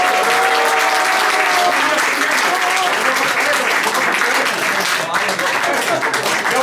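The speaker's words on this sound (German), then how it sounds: "Haut mir einen Applaus für unseren Lieder." Audience applauding at a live Wienerlied concert at a Viennese wine tavern, a dense, steady burst of clapping for several seconds with some crowd noise, while a voice talks over it and tonal traces of music linger underneath.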